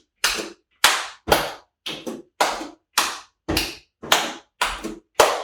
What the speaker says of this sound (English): I'm not gonna clap the entire time for you